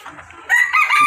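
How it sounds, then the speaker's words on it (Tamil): A rooster crows loudly and close by, one sustained call rising in strength through the second half, beside a road on a motorcycle trip from Chennai to Pondicherry. "இந்த கோழி பாருங்க, செம்மையாக இருக்கான்."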